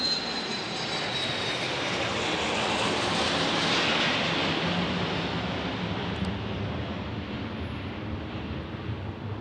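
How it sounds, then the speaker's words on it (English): A Bombardier Challenger business jet takes off from runway 13 right at Dallas Love Field, its engine roar loud and continuous, swelling to a peak and then easing slightly as it climbs away, with no talking. "Nice Challenger departing here"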